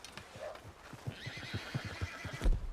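A wild horse whinnies loudly, with a quick series of hoof clip-clops on the ground close by, and a second whinny rising near the end.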